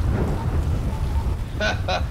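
Rain and thunder in the GTA 5 video game: a steady, dense downpour with a low, rolling rumble throughout, and two short bright honk-like bursts near the end.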